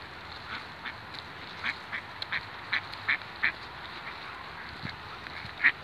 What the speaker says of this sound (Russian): Посмотрим, где они, эти оранжевые коричневые уточки.